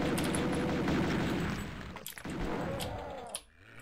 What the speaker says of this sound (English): this pistol's firing about as fast as the chain gun, I think